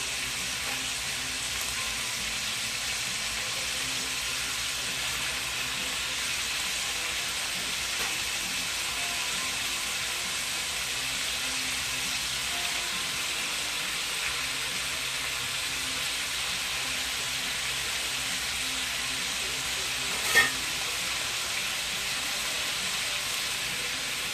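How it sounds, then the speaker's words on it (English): Steady, quiet sizzling hiss of peppers and onions frying in a pan, continuous and even throughout with no talking. "I don't know if you can hear the sizzle"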